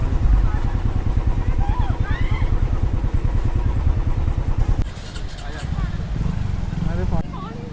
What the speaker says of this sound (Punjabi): ਹੌਲੀ ਹੌਲੀ ਸਕੂਟਰ ਮੋਟਰਸਾਈਕਲ ਨਿਕਲਦੇ ਪਏ ਆ